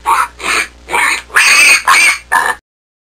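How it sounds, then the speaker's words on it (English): Wild boar calling: six loud, evenly spaced grunting squeals in a steady rhythm, close and alone, with no voices. "Boar."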